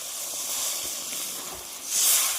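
Water poured into hot mustard paste for a kotila fish mustard curry gives a continuous close hiss, swelling briefly louder near the end.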